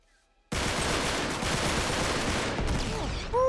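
Sustained gunfire in an Uncharted game firefight, a dense, loud barrage of rapid shots starting abruptly after a short silence and continuing without pause.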